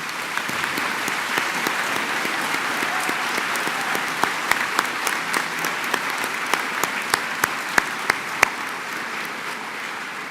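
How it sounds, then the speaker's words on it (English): An audience at a career and technical college commencement ceremony applauds in honor of military veterans, a long, even wash of clapping with a few sharper, closer claps standing out toward the end. "Will you please join me in a round of applause to thank all the men and women who have served our country?"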